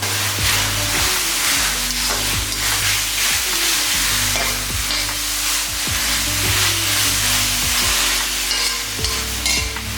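Grated cabbage stir-fried in a pan for chicken fried rice: a steady, loud sizzle and crackle with repeated spatula scrapes and clanks against the pan throughout, no voices.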